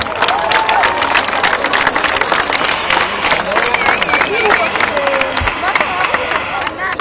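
Crowd cheering and sustained clapping at a military demonstration where soldiers and tanks advance on an obstacle, loud and continuous throughout with a thick babble of voices.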